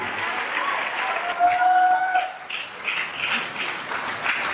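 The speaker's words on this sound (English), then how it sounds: "A round of applause for her, please." Steady applause from a crowd fills the whole stretch, a dense wash of clapping with a few faint voices and whistles mixed in.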